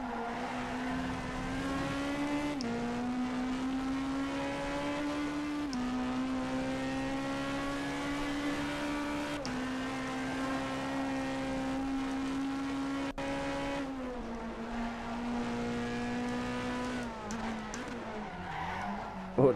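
British Super Touring front-wheel-drive race car in rFactor 2 holds a loud, sustained engine whine that rises and drops with gear changes, with tyre squeal and skidding through corners.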